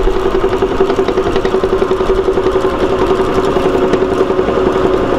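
A homemade extruder for making rabbit feed runs steadily after being switched on, its motor giving a loud, continuous engine-like drone with a fast pulsing throb and a steady tone throughout.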